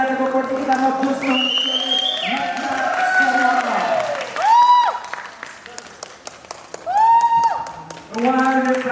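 A crowd at a group dance competition in Tokyo applauds a second-place dance group, with clapping running beneath a loud, tonal announcer's voice that rises and falls across the stretch.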